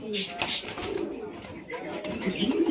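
About a hundred pigeons coo softly in a loose, overlapping murmur, with brief chirps and rustling around them, fairly close by.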